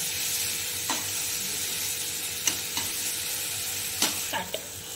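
Smashed tomato sizzling in a pan with salt and turmeric for egg masala, a soft steady sizzle with a handful of sharp spatula scrapes scattered through it.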